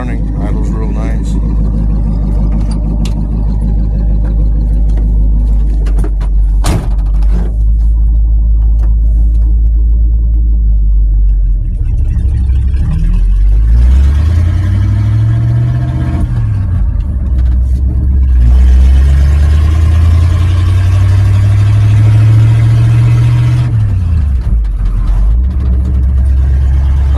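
Car engine idling with a deep, steady rumble close by, with passing engine revs and rising tones in the middle while someone talks over it.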